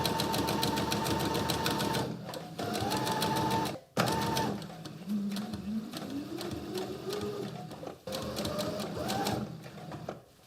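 A sewing machine runs steadily while stitching a suit lapel facing for a wedding suit, its rapid mechanical whir continuing in long bursts broken by a few brief stops.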